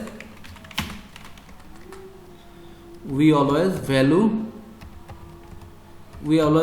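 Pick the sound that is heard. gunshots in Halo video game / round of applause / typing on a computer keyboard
typing on a computer keyboard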